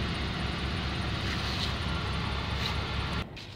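A Ford 4.6-liter V8 idles after a cold start, a steady loud drone with a low rumble that holds constant and then suddenly drops in level near the end.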